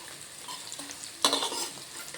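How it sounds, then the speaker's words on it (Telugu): Sliced bitter gourd, onion and chana dal fry in oil in a pan with a soft sizzle. Partway through, a loud spatula scrape and stirring clatter begins and then continues over the crackle, close by, with no talking. "ఇలా ఎర్రగా వేగాలండి, ఇంకా కొంచెం వేగాల. ఒకసారి కలుపుదాం."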